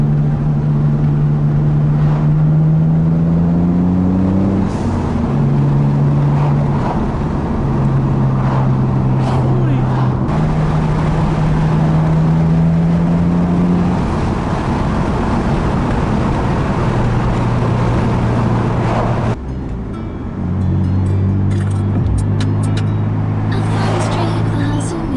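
A Mitsubishi Galant VR-4 drives along a quiet hill road, its engine droning steadily and loudly from inside the cabin, rising and falling in pitch through gear changes, with a brief drop near the end.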